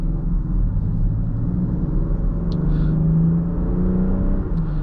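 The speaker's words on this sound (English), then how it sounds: "Really nice sound from this powertrain." A 2024 Land Rover Defender 130 powertrain accelerates with a steady, loud engine drone whose pitch climbs through the gears, heard up close from inside the cabin, with no talking.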